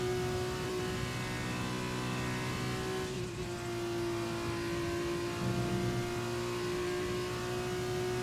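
Formula 2 race car from a racing video game cruising slowly around the Belgium circuit, a steady mid-pitched engine drone holding a constant note throughout with no revving, loud and continuous.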